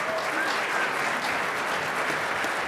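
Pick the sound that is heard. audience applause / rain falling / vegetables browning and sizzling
audience applause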